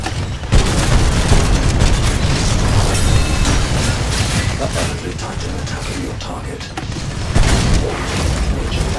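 A heavy boom from a Titanfall 2 match rolls under dense battle noise, with rumbling blasts and mechanical clatter continuing over several seconds while players talk.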